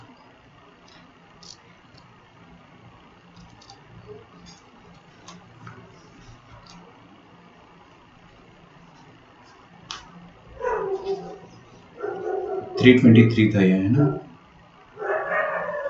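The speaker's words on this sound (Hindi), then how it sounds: "कुत्तों की आवाज को इग्नोर किया जाए" Dogs bark nearby in a burst of loud, overlapping yelps and barks toward the end, following a quieter stretch where someone speaks during a math lecture.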